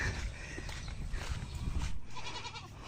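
A goat bleats a few times, faint and somewhat distant, over outdoor background noise.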